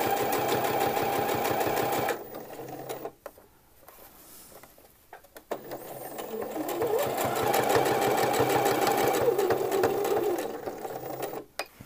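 Sewing machine stitching a pocket for a McCall's 6972 men's shirt: bursts of rapid, steady mechanical whirring, broken by a quiet pause before a longer run of stitching.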